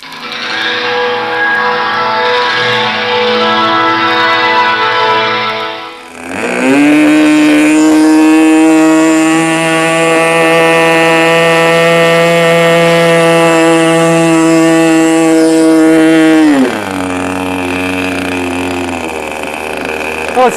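A radio controlled model airplane engine runs loud and close with a steady high buzzing drone, revving up sharply partway through as the nose is held up, then dropping back to a lower idle.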